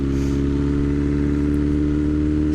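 A 2021 BMW S1000R motorcycle rides in 4th gear at low speed, its engine giving a loud, steady, throbbing drone at constant revs, close and unbroken.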